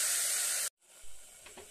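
Chopped medium tomatoes hit a hot pan for a jackfruit seed biryani, giving a loud, steady sizzling hiss that cuts off abruptly, then a quieter, fainter sizzle continues alone.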